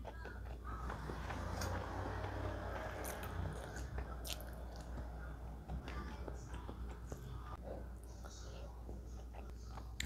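Close, soft chewing and crunching of spicy food eaten with fried tempeh, with irregular bites and wet mouth sounds throughout and a voice faintly in the background.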